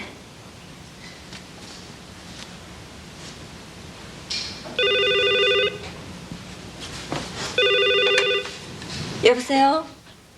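A telephone bell rings in two clear bursts about three seconds apart in a quiet room, loud and near, with faint rustling between; a voice begins answering at the end.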